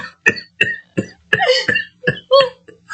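Harsh repeated coughs come close and loud in a rapid series of about eight bursts, some wet and rasping, with no talk between them.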